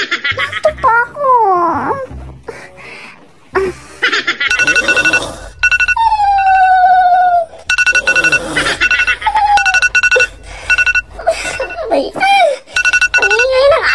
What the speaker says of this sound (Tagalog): Ang ingay ng alarm.